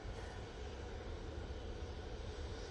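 An Emirates airliner taxis onto the runway at Manchester Airport, a steady, distant, faint roar of jet engines that holds even and continuous.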